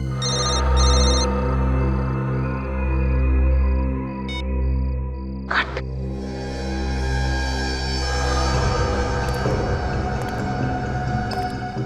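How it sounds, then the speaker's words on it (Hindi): A telephone rings in short repeated bursts, faint and somewhat distant, over a low hum, followed by a brief clatter and background noise. "उस तरफ से आवाज आ रही है फोन की।"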